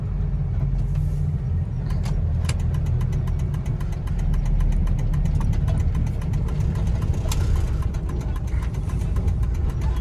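A Kubota DC70 tractor engine runs steadily nearby, a deep diesel rumble with a fast, regular mechanical ticking throughout.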